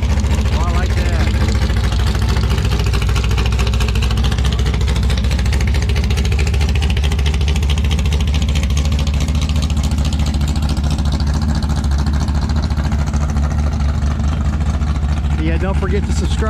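A gasser drag racing car at a rod and custom car show idles with a deep, loud, rumbling engine note that holds steady, with small swells of revving, while people talk faintly in the background.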